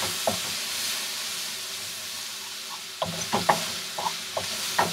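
Shrimp fry in a pan with a splash of soy sauce for fried rice, giving a steady, close sizzle with occasional clinks and stirring taps from a utensil against the pan.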